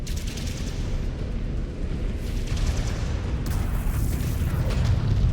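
Mech weapons firing in MechWarrior 5: Clans, a dense, loud run of booming blasts and heavy rumble layered over one another, with no pause between shots.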